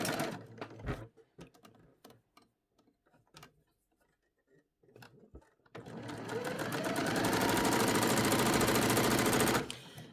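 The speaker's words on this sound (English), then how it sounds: "we're going to stitch that down so that it's flat" A sewing machine stitches sheer organza fabric, starting after several seconds of scattered soft clicks and handling noises, then running loud and steady for about four seconds before stopping.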